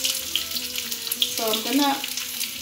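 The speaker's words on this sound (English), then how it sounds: "so I'm gonna fry the onion" Onions frying gently in a pan for chicken nugget wraps, a soft, continuous hiss of oil beneath a brief spoken phrase, with a short scraping stir near the middle.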